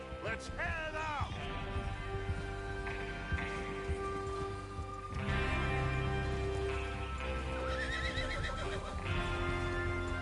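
Horses in the video game Red Dead Redemption 2 give shrill, wavering neighs, one early and another near the end, over soft hoof clops and steady rain-like background noise.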